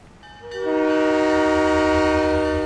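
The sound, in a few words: train departing with horn, from video game Halo 3: ODST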